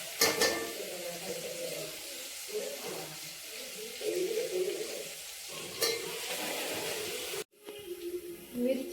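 Onion and tomato fry in a pan for a Konkan-style cashew curry, giving a low, steady sizzle with intermittent spoon scrapes and stirring knocks and a brief drop to near silence before the frying resumes.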